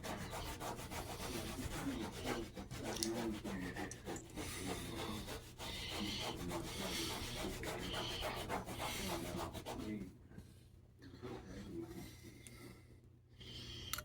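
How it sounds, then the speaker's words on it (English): A rag scrubs kitchen grime in quick, rhythmic rubbing strokes, faint and close, over a low steady hum, and no one speaks. "I'm gonna grab another rag. Go back scrubbing over here."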